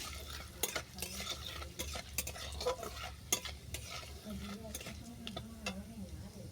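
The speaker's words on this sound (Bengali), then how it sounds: "দিলাম পাঁচ ফোড়ন ফোড়নটাকে ভালো করে ভেজে নেব" Panch phoron five-spice seeds with dried red chilli frying in hot oil, a steady close sizzle with stirring clicks and scrapes, and soft speech-like murmurs underneath.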